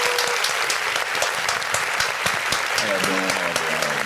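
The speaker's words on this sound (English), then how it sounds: "Let's give a round of a motherfucking applause." A small audience at an interview show claps in a loud, continuous round of applause with sharp individual claps, and voices briefly murmur toward the end.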